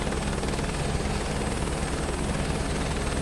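A helicopter in flight, heard from inside the cockpit as a steady, loud rotor and engine drone with a constant rhythmic chop throughout.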